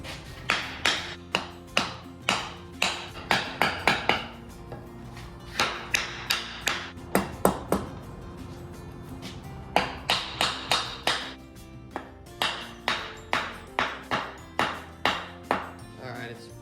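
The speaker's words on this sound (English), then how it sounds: "I'm probably going to beat this with a hammer a bit to not break that seal loose." Hammer blows pound on a part from a 1951 Case SC tractor during teardown. The blows land in quick bursts of sharp metallic taps with ringing overtones, close and loud, with brief pauses between groups.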